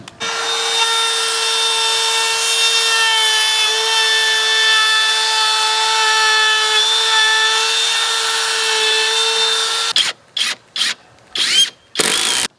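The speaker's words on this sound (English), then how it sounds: "We'll hit the router at the other end" Wood router cutting the top cap of a wooden deck guard rail, a steady loud high-pitched whine held for about ten seconds before breaking into short bursts of cutting near the end.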